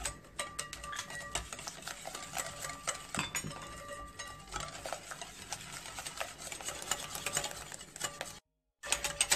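Close, quiet clicking and tapping of a whisk beating milk into a starch batter for a cream dessert, with irregular rapid strokes and a brief dropout near the end.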